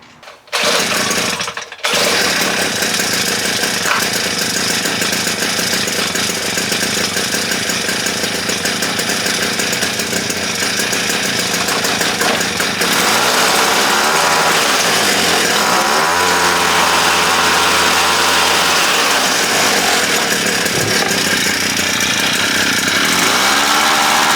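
Wheelman Bushpig motorized skateboard's small gas engine pulling to life, then running in a loud, continuous buzzing drone with shifts in pitch as the revs change, close by and with no talking.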